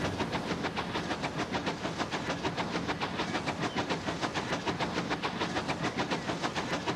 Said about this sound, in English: Here comes another goods train.